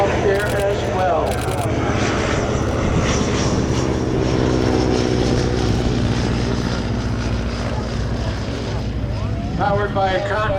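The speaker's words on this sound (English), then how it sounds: "Powered by a Continental radial engine, I believe it's an R670, about 220 horsepower" A WWII-era Continental R670 radial engine, about 220 horsepower, drones steadily overhead at an air museum weekend in Reading, PA, with a loud continuous propeller hum and faint voices in the background.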